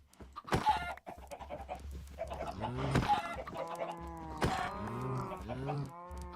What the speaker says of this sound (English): Alright, chickens, come here.